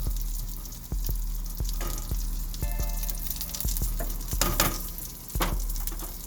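An Impossible vegan burger patty sizzling in a pan, a loud steady fry with sharp spatula clacks and scrapes recurring about once a second, close up and with no talking.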